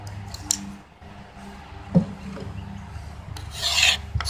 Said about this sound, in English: just take your knife, not at an angle, but just straight vertical, and just rub it down